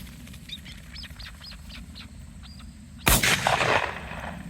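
A single sharp, loud shotgun blast fired at a flushed chukar partridge, preceded by faint chirping bird calls over wind, then a short echoing tail afterward.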